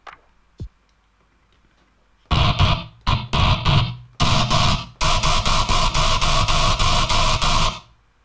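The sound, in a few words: noisy distorted wavetable synth sound for Minatory-style dubstep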